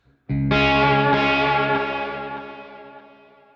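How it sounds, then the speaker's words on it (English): A single distorted electric guitar chord rings out loudly with reverb and echo from a Seymour Duncan Dark Sun reverb/delay pedal, then slowly decays and fades into a lingering trail after the pedal is switched off. "if I hit a note and then turn the pedal off, you'll hear it trail out"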